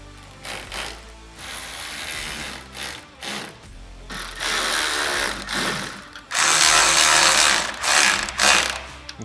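A hand ratchet snugs up windshield mounting hardware on a Kawasaki Mule Pro FTX with rapid, close clicking in repeated bursts, growing louder and steadier toward the end.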